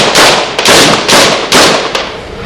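Gunshots during a military convoy clash, a series of loud, harsh cracking bursts that repeat roughly every half second, close and dense with noisy crackle filling the whole span.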